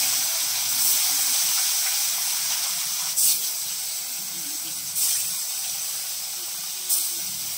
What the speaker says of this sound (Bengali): মাছগুলো কড়াইয়ের মধ্যে দিয়ে দিচ্ছে।